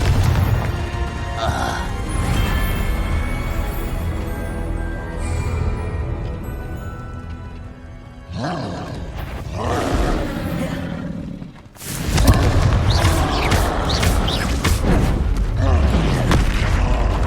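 Fire-spell explosions from the Confringo curse in the Hogwarts Legacy video game, heavy rumbling booms and crashes within a loud game soundtrack, with a sharp blast near the end.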